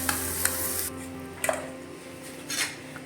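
Plantain pieces being sautéed in a pan for a coconut-milk dish with sago, heard as soft sizzling with stirring scrapes and a few light utensil clinks against the pan.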